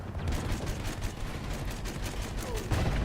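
Rapid bursts of video game gunfire from Battlefield 1, a dense, continuous clatter of shots and explosions filling the whole stretch, with a louder burst near the end.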